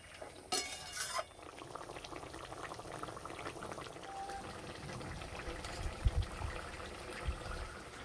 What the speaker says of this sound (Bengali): শসা সিদ্ধ হয়ে গেছে, এবার দেবো টমেটো, ভেজে রাখা মাছ, একবার ফুটে নিলেই হয়ে যাবে।